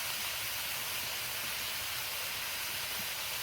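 Shrimp sizzle in a hot pan as they cook for fried rice, a steady close hiss that continues evenly without talk.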